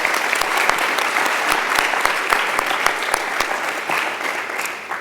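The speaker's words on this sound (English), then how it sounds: "can we give them a round of applause for all their hard work?" An audience at a school speech showcase gives a sustained round of applause, dense clapping with sharp individual claps standing out, loud and close, tapering slightly toward the end.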